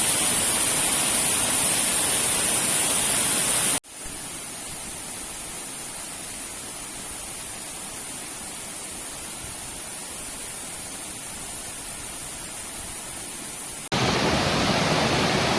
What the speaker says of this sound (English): This is the lower waterfall. And the water is flowing, and there's still lots of ice.